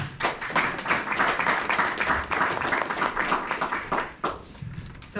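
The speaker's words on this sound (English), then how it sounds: "So give yourselves a round of applause." Audience applause after a leadership talk at a community meeting in Pilsen, with steady dense clapping at close to moderate distance that runs loud and unbroken for several seconds before thinning out near the end.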